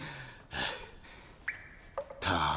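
Heavy, gasping breaths from someone winded after running, a few sharp inhales and exhales in short bursts, close and fairly loud, with no talk.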